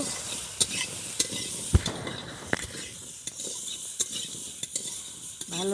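Spices and turmeric being sautéed and stirred in a pan for a sour lemon curry with prawns and taro stems: steady close sizzling with repeated sharp scrapes and clinks of a spoon against the pan.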